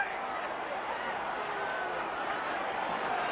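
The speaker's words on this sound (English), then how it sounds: "This crowd offering the umpire advice." Football crowd at a 1988 VFL Reserves grand final shouting at the umpire, a broad, sustained roar of many distant voices with a commentator talking over it.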